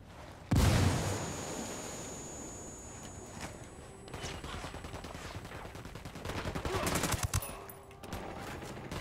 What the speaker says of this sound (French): Un sniper ! Ouvrez le feu !